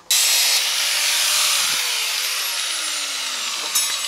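Angle grinder cutting through a one-piece fresco wall, a loud, steady high-pitched abrasive whine that runs nearly the whole time with a slight rise near the end.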